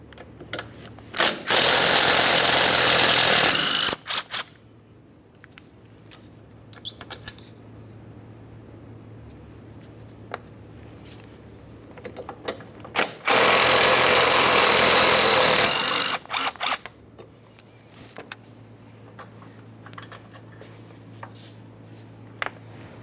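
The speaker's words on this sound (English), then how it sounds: "We're going to remove all 4 of our 13mm headed mounting bolts that hold this in place." Four 13mm mounting bolts being removed from a front bumper bracket on a 2012-2018 Nissan Altima: two loud, sustained whirring tool bursts of about three seconds each, separated by quieter workshop noise and small clicks.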